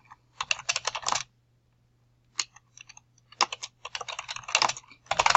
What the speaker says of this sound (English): You can type directly in here.